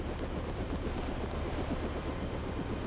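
A helicopter in the video game Deus Ex gives a steady, quiet engine drone with a faint rhythmic rotor chop running throughout, and no talk over it.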